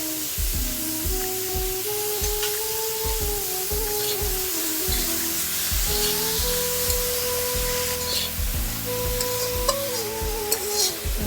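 Vegetable mixture for vegetable chop stirred in a pan, with a steady sizzle and scraping strokes, close and continuous, under a sustained hum.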